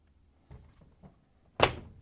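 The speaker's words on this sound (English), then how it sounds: "Close the door." An LG/Kenmore front-load washing machine door swings shut with a single firm thunk and latch click at the end, preceded by a few faint handling taps in a quiet room.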